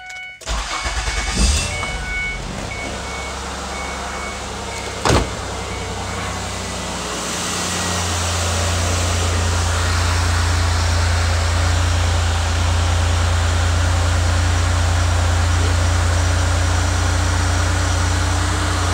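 A car engine runs inside a garage: it cranks and catches after a couple of sharp clicks, then settles into a loud, steady idle drone close by with no talk.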